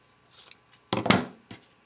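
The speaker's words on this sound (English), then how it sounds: "I will take my scissors and cut away all of this excess fabric" Scissors snip through excess quilting fabric close up: a short faint rustle, then one loud cutting burst and a smaller snip at the end.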